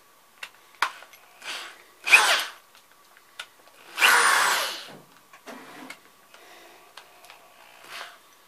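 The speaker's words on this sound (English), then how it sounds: "Take a smaller drill bit." A power drill with a small bit bores into antler in short whirring bursts, with one longer grinding run in the middle and brief clicks and pauses between, close and fairly loud.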